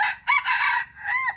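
A rooster crows once, close and loud, a full drawn-out cock-a-doodle-doo with a brief break partway through, heard alone without talk.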